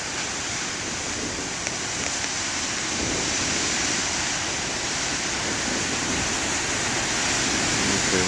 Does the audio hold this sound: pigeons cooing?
no